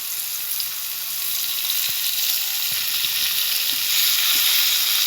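Spices with turmeric and ginger paste frying in a pan for khichuri, a constant bright hiss of oil with a few soft stirring taps, close and steady without speech.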